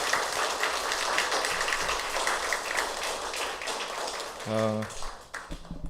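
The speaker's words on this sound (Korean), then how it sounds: "우리 모두에게 또 하나님께 우리 옆에 계신 분들께 각자 격려와 또 힘찬 박수 한번 보내도록 하겠습니다." Applause from a university chapel congregation at an end-of-semester service, a dense, steady wash of many hands clapping that holds throughout, with a brief voice or tone near the end.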